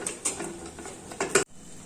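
A lid being set onto a cooking pot during preparation of Rayalaseema chicken pulusu, giving several light metallic clinks and rattles, with a sharper clatter just before the sound cuts off, close and moderately loud.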